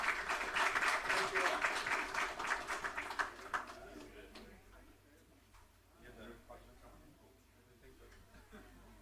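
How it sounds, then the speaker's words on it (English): Audience applause at a city council meeting, a dense burst of clapping for about four seconds that fades out, followed by quieter background talk and chuckling. "Give them another round of applause, please."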